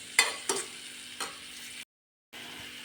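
Onion and chili powder are sautéed in a pan on a low, quiet sizzle, with a few distinct stirring scrapes early on before a brief silence and then a soft return of the cooking sound.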